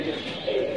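Big desi Moradabad pigeons coo in a low, soft rolling warble, close by and fairly loud, swelling in the second half of the brief stretch with a faint murmur of voices in the background.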